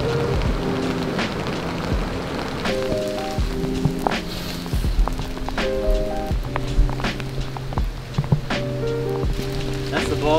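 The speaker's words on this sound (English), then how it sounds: "Can't forget because it's freaking raining." Rain falls steadily during truck camping near Austin, Texas, a continuous wash of patter with sharp drip hits and footsteps in the rain, under a person talking and a low rumble.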